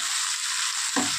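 Capsicum, onion and green chilli stir-fried over high flame for soya chilli, a steady close sizzle with a scraping stir near the end, no voices.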